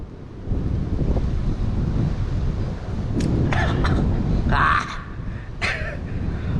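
Strong wind gusting outdoors across the microphone, a steady loud rumbling roar with a few brighter rushing bursts toward the end, no clear talk over it.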